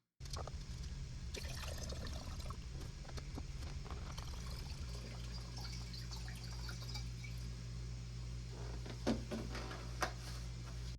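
Distilled water poured into aspirator bottles used for gold and silver refining, a steady continuous gush and trickle with a deep liquid rumble, close and moderately loud, with no talking.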